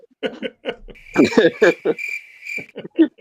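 A cricket chirp effect plays at a Halloween event livestream: a steady high chirping tone runs through the middle of the clip, under and between bursts of talk.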